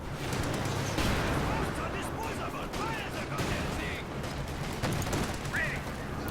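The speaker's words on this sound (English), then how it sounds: "50 cal suppressing Grenadiers at close range" Sustained .50 cal machine gun fire in Company of Heroes 2 suppressing close-range Grenadiers, dense continuous bursts mixed with other battle noise under steady game commentary.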